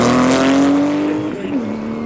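A rally car at speed on a stage near Haapsalu blasts past with a loud, high-revving engine tone that holds, then drops as it shifts and moves away, with a faint voice beneath.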